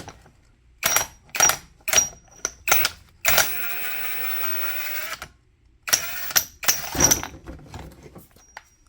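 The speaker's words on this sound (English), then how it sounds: "I'm going to use my Day Plus Impact with 2-inch socket." A Day Plus impact wrench fitted with a 2-inch socket runs a loose nut off a bolt: several short sharp bursts, then a sustained whirring run, then more quick bursts, loud and close with quiet gaps between.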